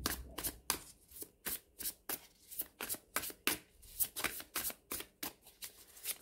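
Tarot cards shuffled by hand in a quick series of soft, crisp riffling slaps, close and fairly quiet, with no voices.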